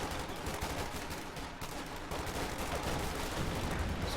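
Gunfire from a Company of Heroes 2 battle, dense overlapping rifle and machine-gun bursts rattling continuously at steady loudness, no voices.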